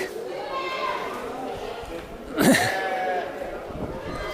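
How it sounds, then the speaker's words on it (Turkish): Goats bleat at a livestock market under ongoing background chatter, with one louder, sharper bleat standing out midway. "şurada çok güzel keçiler geldi"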